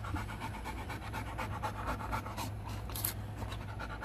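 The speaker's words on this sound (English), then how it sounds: "Missy, if you stop panting, I can hear." A dog with separation anxiety pants rapidly and steadily, close by inside a car trunk, with a continuous low hum in the background and no talking.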